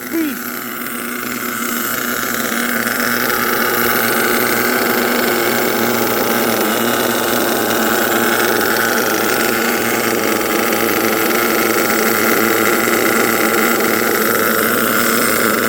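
HPI Savage XL nitro RC truck with twin LRP .32 engines and a three-speed transmission, both motors screaming loudly and continuously close by in a buzzing, high-pitched whine that holds steady throughout.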